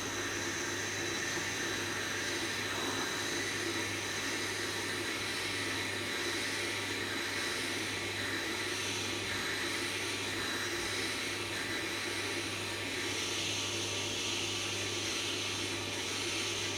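Tormek T4 sharpener reconditioning its grinding stone to 1000 grit, a steady, continuous motor hum with a broad grinding hiss throughout, even and unbroken.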